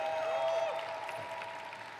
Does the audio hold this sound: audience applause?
yes